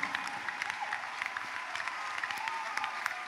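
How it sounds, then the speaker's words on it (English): A church congregation at a testimony service claps in a steady, moderately distant round of applause, scattered individual claps standing out within the crowd. "If you are clapping for this God, you can do better than that."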